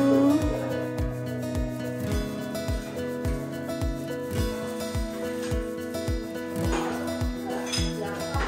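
Cups clink together in a toast, a light glassy chink or two heard faintly over a steady rhythmic mechanical thumping and background chatter at a farm café selling pies and cider in New Zealand.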